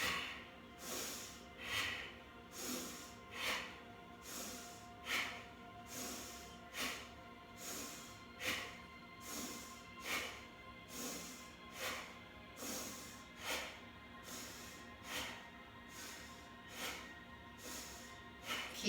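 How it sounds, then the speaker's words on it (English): Rhythmic, forceful nasal exhales from a yoga breathing exercise repeat about once per second, each a short breathy puff, close and fairly soft, with no talking over them. "the exhale is a powerful exhale through the nose"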